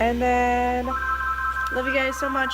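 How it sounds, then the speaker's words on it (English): A phone ringtone plays as a steady electronic melody of held tones stepping between pitches, with a low hum underneath and a person speaking briefly over it. "That's my phone ringing."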